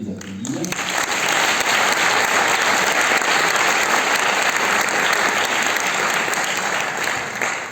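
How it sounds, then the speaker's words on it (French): An audience applauds the speakers after a round-table discussion at a brain research institute, with dense, steady clapping that swells quickly and carries on loudly for several seconds before easing slightly at the end. "on peut les applaudir."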